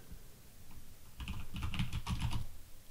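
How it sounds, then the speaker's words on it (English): Keys clatter on a computer keyboard in a short, quick burst of close clicks that builds over a couple of seconds, with no voices. "We can type it in."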